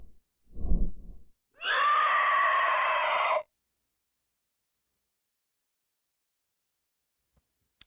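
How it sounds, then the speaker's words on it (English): A low thump is followed by an unworldly, harsh, sustained scream from a machine in a video game, loud and raspy for about two seconds before cutting to silence. "An unworldly scream comes out of the machine's mouth."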